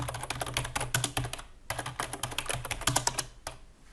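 Fingers typing on a computer keyboard in quick bursts of crisp clicks, pausing briefly midway before another rapid run of keystrokes, close and fairly quiet with no voices.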